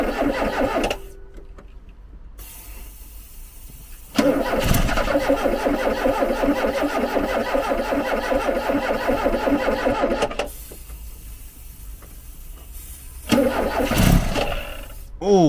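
Ford Capri garden find with no fuel reaching the engine cranks and tries to start, long loud bursts of churning starter and engine noise separated by brief pauses, with voices nearby.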